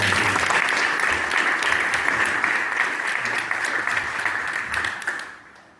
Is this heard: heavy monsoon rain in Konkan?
no